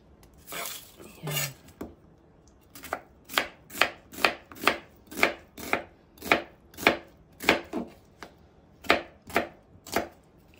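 Onions being chopped for a home-cooked dish: about a dozen crisp knife strikes against a cutting board in a steady, evenly spaced rhythm, close and clear, after a brief clatter of handling at the start.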